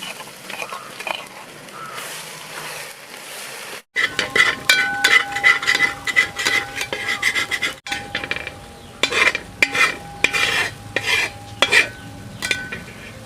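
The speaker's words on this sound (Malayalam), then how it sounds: "ഇനി നമുക്ക് ഇതിനകത്തോട്ട് ഇഞ്ചിയും വെളുത്തുള്ളിയും പേസ്റ്റ് ആക്കിയതാണ്. അപ്പോൾ അത് നമുക്ക് ഇട്ട് കൊടുക്കാം." Ginger-garlic paste and curry leaves frying in a pan for Kerala-style dry fish pickle, a quiet stretch and then a loud, crackling sizzle with repeated metallic stirring scrapes and clinks against the pan, close up.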